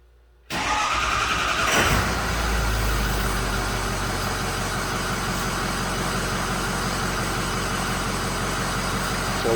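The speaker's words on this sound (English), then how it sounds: "Start the engine and allow it to idle." A 2006 Ford F250 6.0 truck engine with a P0404 fault code cranks and catches, then settles into a steady, close idle that runs on evenly with no talking.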